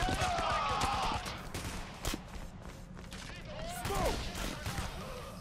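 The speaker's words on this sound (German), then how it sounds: "noch 12 Schuss Maschinengewehr und dann ist es durch" Machine gun fire in the heist shooter game Payday: The Heist, rapid bursts crackling through the mix under steady talk in Swiss German.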